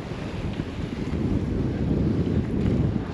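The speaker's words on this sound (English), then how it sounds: "it's blowing 25 knots." Strong 25-knot wind blowing over a sailboat offshore, a loud steady roar of gusting air buffeting the microphone, with the rush of sea and hull beneath, no voices.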